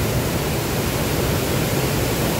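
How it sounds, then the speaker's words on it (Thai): A waterfall with reddish, muddy water at Pa Ba Falls pours in a steady, dense roar that fills the whole clip, broad and constant with no voices. "เดี๋ยวผมจะพาดูน้ำตก ตาบ่าไปด้วยกันเป็นน้ำตกสายสีแดงคนไม่ค่อยเห็นนะครับ"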